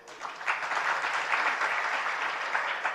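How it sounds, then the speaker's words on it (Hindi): An audience claps steadily for about three seconds, a dense, even wash of applause with no voices rising above it. "तालियां मत बजाओ"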